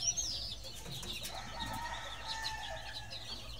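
Roosters on a farm cluck and call, with a brief high cry at the start and scattered bird chatter over a low steady background, moderately distant, no talk.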